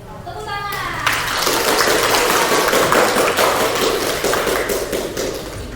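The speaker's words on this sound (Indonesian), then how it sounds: "Tepuk tangan." Classroom of schoolchildren clapping for a student group, dense sustained applause with sharp taps and thuds, children's voices chattering underneath throughout.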